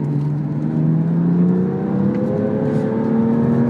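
A BMW M2 driven in sport mode, its engine droning steadily with rising harmonics as it accelerates through a gear, close and continuous with no talk.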